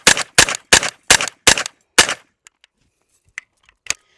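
A PSA AKV 9mm carbine firing on an outdoor range: six sharp, loud shots in a quick, even string, followed by quiet with faint clicks and small handling noises.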